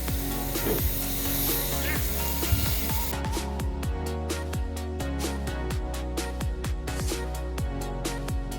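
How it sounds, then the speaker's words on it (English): Quick, steady chopping taps of a knife cutting potatoes on a cutting board, repeated in a brisk rhythm, close and fairly loud. "Anyway, back to chopping."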